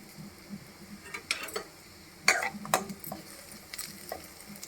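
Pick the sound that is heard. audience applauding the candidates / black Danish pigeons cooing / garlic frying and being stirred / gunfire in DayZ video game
garlic frying and being stirred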